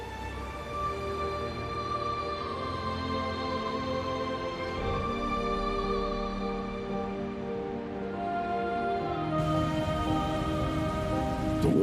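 Victoria Falls plunges into the Batoka Gorge, a dense, continuous roar of falling water that sounds like heavy rain, steady and loud throughout with background music layered over it.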